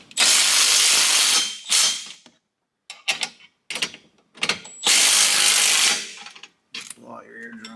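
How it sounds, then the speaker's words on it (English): Bursts of a loud power tool whirring on and off in several spurts during installation of car jacking rails and subframe support, with brief mechanical clicks and clatter between runs. "Get some power tools."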